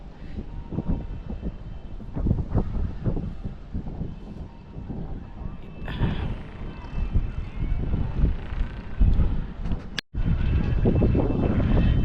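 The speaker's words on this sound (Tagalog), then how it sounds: "Medyo humahangin na." Wind blows hard outdoors on a rocky spot along an unfinished road, roaring and buffeting the microphone in loud uneven gusts. The rumble is close and continuous, with a brief dropout near the end.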